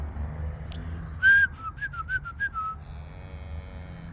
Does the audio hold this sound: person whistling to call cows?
yes